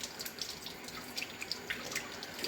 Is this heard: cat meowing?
no